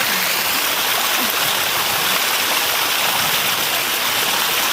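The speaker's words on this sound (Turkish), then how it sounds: "Şöyle bir şelale" Steady, dense rush of a waterfall in a forest, loud and continuous throughout with no voices.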